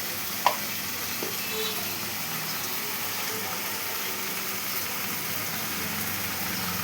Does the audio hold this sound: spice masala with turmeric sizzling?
yes